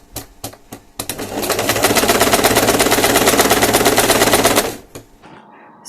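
A sewing machine runs steadily along the bottom border of a skirt, its rapid even stitching loud and close for about three seconds after a few short starting bursts, then stopping.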